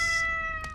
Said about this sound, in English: Kitty cats!